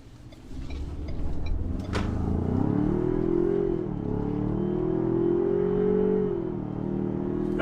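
A 2021 Ford Ranger Tremor's 2.3-liter turbocharged four-cylinder with a 10-speed automatic accelerates hard, the engine drone climbing in pitch, easing at a shift and climbing again, loud and steady from inside the cab.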